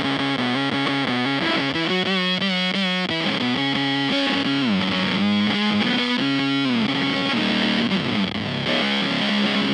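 Electric guitar run through a Beetronix Swarm octave fuzz pedal, playing loud, heavily distorted chords and note runs that sustain continuously with a buzzing, thick tone and no speech.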